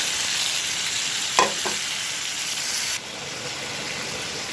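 Bitter gourd slides into a frying pan of fish, a steady hiss of hot oil with a brief stirring clatter near the middle before the sizzle drops slightly in level.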